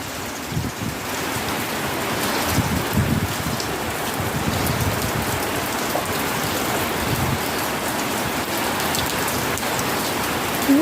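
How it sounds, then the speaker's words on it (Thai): Steady rain falls on a home vegetable garden in front of a house, a dense, continuous hiss of drops striking leaves and ground, close and even throughout with no voices. "ฝนยังตกอยู่เลยครับ"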